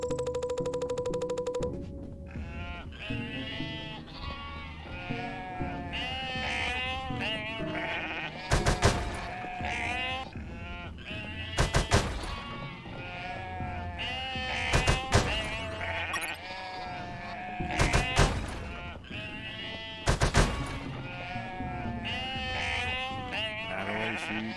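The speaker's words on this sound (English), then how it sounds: "250 sheep" A flock of sheep bleats in the video game UnMetal, many overlapping wavering cries under game music, broken by several loud bursts of noise at regular intervals.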